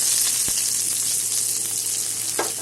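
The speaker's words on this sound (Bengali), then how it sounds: "পেঁয়াজটা ভাজা হবে" Sliced onion sizzling in hot oil in a pan for a Bengali jute-leaf greens dish, with black cumin already in the oil; a steady bright hiss runs throughout, with a couple of soft stirring knocks.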